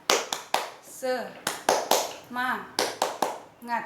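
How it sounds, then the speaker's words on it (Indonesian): A group of women claps the Indonesian 'tepuk semangat' rhythmic pattern in bursts, with voices chanting along between the claps, led by a speaker's call. "Ikuti saya ya Bu. Tepuk semangat"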